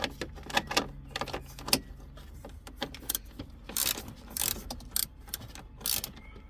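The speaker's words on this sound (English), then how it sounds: "we would need an 8mm socket to unscrew them" An 8mm socket turns and clicks while unscrewing the stereo screws in a BMW E93, with irregular close metallic ticks, rattles and small clinks scattered through the stretch.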